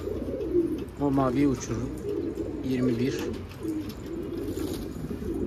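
Keşpir pigeons coo in a garden, a few soft rolling coos close by, while someone speaks over them.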